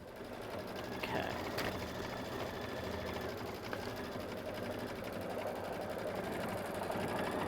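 An embroidery sewing machine stitches a quilted design onto the front of a bag, running a steady, fast, continuous mechanical chatter at close range, with a person speaking faintly over it.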